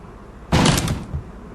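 A sudden loud crash of a door being smashed in, in the video game Stories to Tell: Run Away, bursts out of near silence and fades within about half a second.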